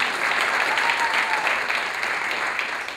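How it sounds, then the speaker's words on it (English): Steady applause from an audience honouring the finalists at a South Asian spelling bee final, a dense, even clatter of many hands filling the hall for the full stretch without pause. "one more round of applause for these finalists"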